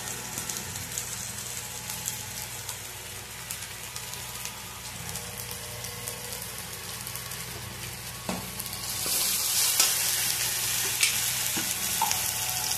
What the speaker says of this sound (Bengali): টমেটো, পেঁয়াজ, আদা, রসুন সব ভাজা হয়ে গেছে। এবারে এর মধ্যে লঙ্কার গুঁড়োটা দিয়ে দিলাম।